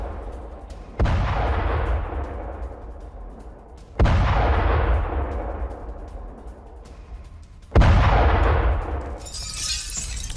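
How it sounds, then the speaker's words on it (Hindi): Explosions from an attack on the village of Vozdvizhenka in Russia: three heavy, close blasts about three seconds apart, each breaking into a long rumbling decay, with no speech. "वोज्दोविचवका गांव में हमले के बाद तबाही, धमाकों से दहल गया पूरा इलाका"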